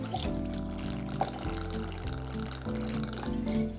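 Two ounces of gin poured for a cherry sage gin and tonic, a continuous liquid pour with shifting gurgling tones, close and fairly quiet, with no talk.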